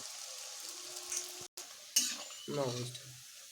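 Cabbage pakoras frying in very hot oil over a high flame give a steady, bright sizzle that briefly cuts out, then returns with a few soft clinks and bubbling.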